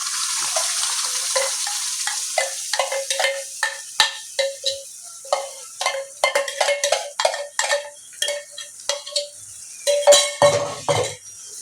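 A metal spoon repeatedly scrapes and clinks against a pan while homemade fish masala is stirred in for a surmai fish dish, a rhythmic series of sharp close knocks over a faint sizzle, no talk.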